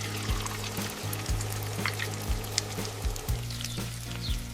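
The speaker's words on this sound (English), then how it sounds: "I add oil to the pan. I crack an egg into the pan." An egg frying in oil in a stovetop pan, soft crackling sizzle with intermittent pops and gentle spattering, close and steady without speech.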